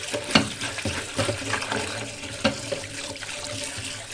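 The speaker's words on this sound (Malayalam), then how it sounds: "ഇതിനായി മരിച്ചിനി കഴുകി എടുത്തിട്ട്" Tapioca root is washed under running water, with a steady splashing stream from a tap and occasional louder sloshes and knocks as the pieces are rubbed and turned, heard close and alone.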